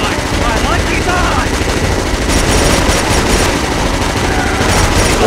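Turret machine gun fire in the Killzone 2 video game: sustained, loud automatic bursts that continue without a break, with layered battle noise throughout and a voice heard in the mix.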